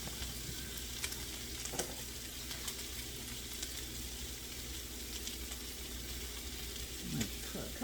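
Garlic sizzles in a stir-fry pan for a steak and broccoli dish, a steady broadband hiss that holds evenly throughout with a few faint clinks and soft scrapes.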